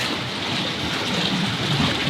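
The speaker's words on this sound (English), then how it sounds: "Look at this waterfall, bro." A waterfall feature at a modern Dubai villa gives a steady broadband rush of falling water, close and fairly loud, with nothing else over it.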